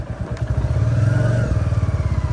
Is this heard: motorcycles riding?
yes